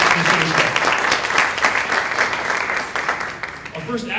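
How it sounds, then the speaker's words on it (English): Audience applause for the judges at a seniors talent show in Lexington, a full, dense round of clapping from a large room, steady and loud before tapering near the end as a host begins speaking over it. "Let's give all our judges one final round of applause as you just did there"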